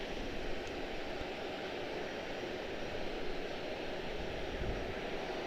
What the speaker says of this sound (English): Next up is going to be American 536 A321-231